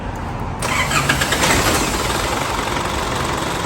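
An Isuzu D-Max pickup with a weak battery and worn starter cranks slowly and struggles to start; a quiet lead-in gives way to a loud, steady broadband engine roar that continues to the end, with no talking.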